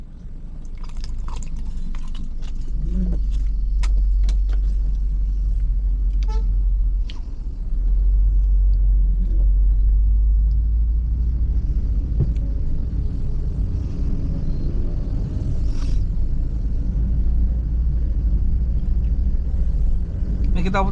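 An online taxi car cruises the streets looking for fares, its steady low engine and road rumble continuing throughout, with a brief dip partway, while someone talks over it and occasional faint clicks and knocks sound inside the cabin.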